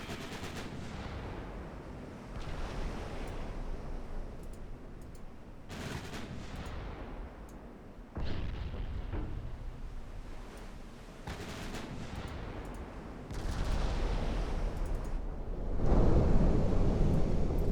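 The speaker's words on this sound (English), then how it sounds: "I think one more salvo, then the last turret will fire as well." Warship turret salvos thunder in the naval battle game Ultimate Admiral Dreadnoughts, a series of heavy booming blasts with rolling rumble, each several seconds apart and growing louder toward the end, with no talking.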